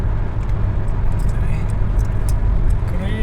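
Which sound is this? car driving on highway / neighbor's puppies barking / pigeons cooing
car driving on highway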